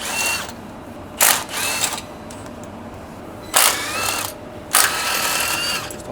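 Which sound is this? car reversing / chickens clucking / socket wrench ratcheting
socket wrench ratcheting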